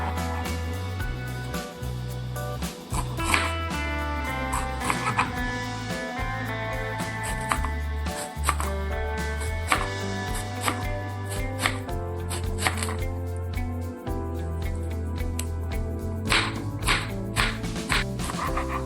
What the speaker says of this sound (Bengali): এবার জিরি করে কেটে নেব, যাতে সেদ্ধটা তাড়াতাড়ি হয়।